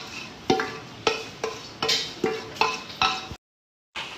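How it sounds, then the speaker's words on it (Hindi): Spoonfuls of minced meat (keema) dropped into a hot pan for bhuna qeema, each landing as a sharp clatter followed by sizzling, repeated about seven times at a steady pace before a brief silence. "अब हम डालेंगे इसके अंदर अपना कीमा।"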